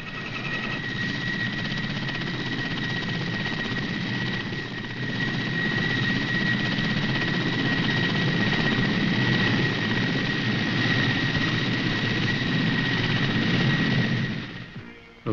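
A French Navy Super Frelon anti-submarine helicopter, seen in 1985 footage, drones loudly and steadily with a whining turbine tone over rotor noise, holding level for most of the stretch before cutting off near the end.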